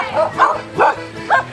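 A dog gives three quick yapping barks in succession, close and loud, each short with a slightly whiny tone.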